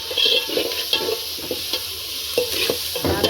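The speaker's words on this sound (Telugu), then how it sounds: "ఒకసారి తిప్పుకుందాం." Onions, green chillies, tomatoes, curry leaves and ginger-garlic paste sizzle in a pan for chicken pakodi while a spoon stirs them. Close, loud frying with repeated scraping strokes and small clinks against the pan, and no speech.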